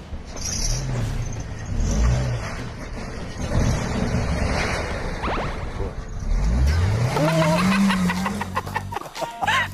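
A car with its engine already running pulls away in a hurried getaway on snowy ground, the engine revving and rising in pitch as it accelerates, loud and close with rushing outdoor noise.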